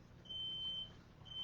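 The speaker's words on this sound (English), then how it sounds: "my smoke alarm went off" Smoke alarm in a home beeping in high, piercing pulses that start and stop in two bursts, loud over a low background hum.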